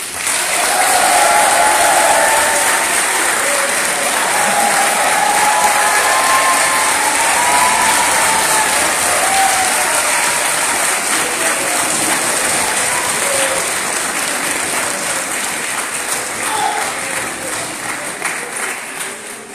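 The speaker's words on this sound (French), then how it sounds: "j'aimerais que vous fassiez un tonnerre d'applaudissements à Madame Brice de la Joux" A large audience at a French student debate and eloquence contest in Évry bursts into sustained, dense applause that holds steady for nearly twenty seconds before easing slightly toward the end.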